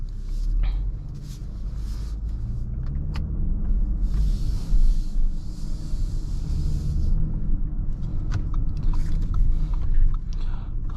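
A 2023 Audi Q8 55 Premium setting off on a drive, with a steady low road and engine rumble from inside the cabin and scattered light clicks and rustles.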